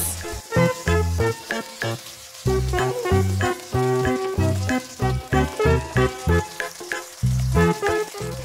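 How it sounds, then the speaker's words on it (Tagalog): Marinated chicken breast frying in a little oil, with a bright crackling sizzle that pulses in uneven bursts, close and fairly loud. "naglagay tayo ng konting mantika at hinulog na natin yung ating mga marinated chicken breast"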